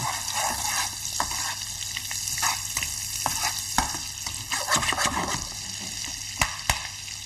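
Onion cooking in a salted sauce in a pan over reasonable heat, bubbling and sizzling steadily up close, with repeated scrapes and clacks of stirring and a few sharper knocks near the end.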